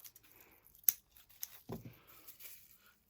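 A sharp snip of scissors cutting the end off a plastic bag of expander fishing pellets, followed by soft crinkling and rustling of the bag, quiet and close.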